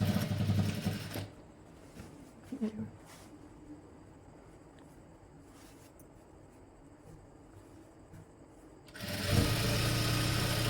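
A sewing machine stitches the side seam of a blouse, its quiet steady motor hum running through the middle stretch, with louder handling noise at the start and end.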